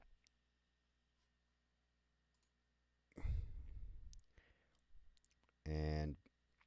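Mouse clicking while working in database software, with two short bursts of clicking and handling noise separated by quiet, fairly close to the microphone.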